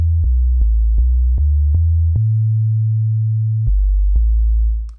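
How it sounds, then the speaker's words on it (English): Synthesizer sine-wave sub-bass plays a pure, deep tone stepping between a few low pitches in short repeated notes, then holds one longer note before resuming; loud, clean and alone with no talk. "These are typically sinus waveforms or these subbasses"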